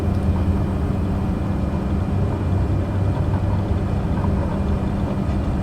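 A Cessna 208 Caravan on its takeoff roll in Microsoft Flight Simulator, a steady, loud turboprop drone with an even engine hum that never lets up.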